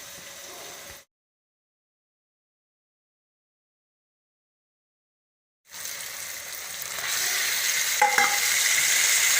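Chicken fries in a pan with ginger, garlic, tomato and onion. A brief hiss gives way to silence, then a loud, steady sizzle rises and continues close by, with a few faint clinks.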